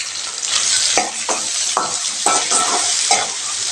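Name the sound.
tomatoes and onions frying in a pan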